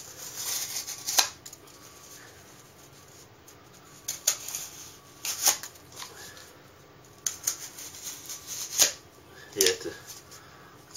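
A Ka-Bar Warthog folding knife cuts through cardboard in scattered short scraping swipes and rasps, fairly close but moderate in level, with pauses between strokes.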